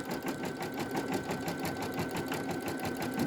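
An embroidery machine stitches the finishing on a knit baby bodysuit, giving a steady, rapid, even chatter that runs continuously at close range with no voices.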